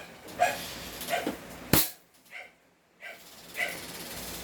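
A CZ Tactical Sports 2 airsoft pistol, stock with a tuned trigger, fires: a sharp close crack, surrounded by softer clacks and mechanical knocks from nearby handling, with no talk.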